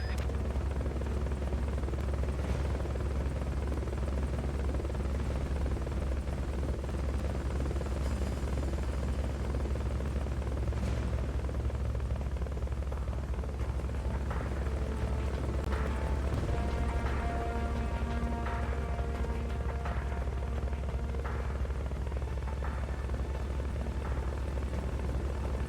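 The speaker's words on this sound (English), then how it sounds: "Fulton recovery subject confirmed onboard helicopter." A helicopter's rotor and engine drone continuously and loudly in the Metal Gear Solid: Peace Walker video game, with scattered game effects layered over the steady low rumble.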